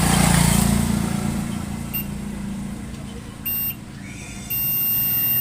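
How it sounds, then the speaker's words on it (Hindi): A multimeter in continuity mode, testing a shorted diode in a DTH power supply, sounds a steady high electronic beep. The tone comes in briefly, then holds continuously over low background hum. "पूरा कंटिन्यूटी बीप का साउंड सुनाई दे रहा है।"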